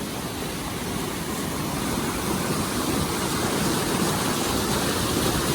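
A flooded creek rushes past near a shed, a steady, dense roar of water that stays even throughout with no voices.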